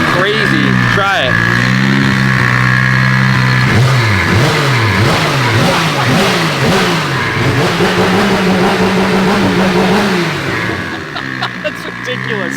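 A 1000-horsepower 2JZ engine revs hard at its first start-up, loud and close, climbing and falling in repeated sharp sweeps before settling back, with excited voices talking over part of it.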